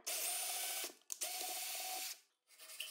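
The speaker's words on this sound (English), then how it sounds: "I drill 2 holes with a bit and thread them with a tap." A power drill bores holes into wood for a fence extension, ready for thread tapping: two sustained whirring bursts, each just under a second, split by a brief pause, followed by quieter workshop handling.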